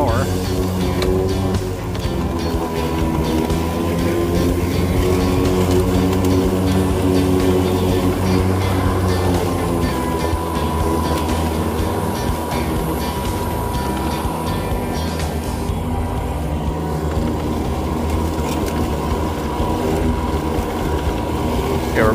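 A Toro 22-inch Super Recycler 60V battery-electric lawn mower running with its blade at max speed while cutting thick grass, giving a loud, close, steady motor drone and whine that continues unbroken throughout.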